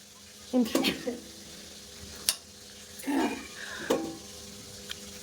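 Chicken being fried down (kosha) in a pan, with scattered sizzling bursts, scraping stirs and a couple of sharp utensil clanks against the pan, fairly close, with speech in between.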